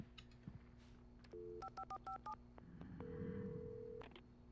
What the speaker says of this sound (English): So go pick up the phone and call the police.